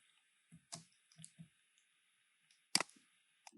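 Mouse clicks at a computer running Excel: a handful of sharp, isolated clicks spaced unevenly over quiet background hiss, faint and close.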